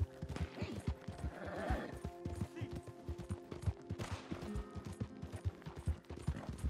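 In the Red Dead Redemption game, a horse's hooves clop in a rhythmic trot, close and clear. A whinny rises partway through, with occasional sharp bangs around it.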